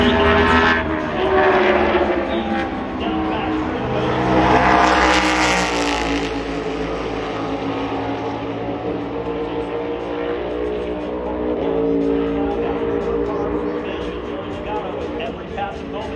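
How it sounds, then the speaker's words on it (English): NASCAR stock cars roaring around the Phoenix track during qualifying, a sustained engine drone that swells and fades as cars pass, with a loud surge midway and commentary talk running over it. "He is on the track right now, coming to the green flag with 4 cars to go in this qualifying session."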